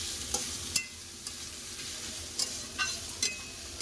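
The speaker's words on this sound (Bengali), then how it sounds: "ব্যাস যতক্ষণ না সোনারি রঙ হয় ততক্ষণ ভাজতে থাকবো যখন হালকা হালকা লাল আছে তখন তুলে নেব" Onions frying in oil for chicken biryani hiss in a low, continuous sizzle, broken by a few quiet clicks and scrapes of a stirring spoon, no voices.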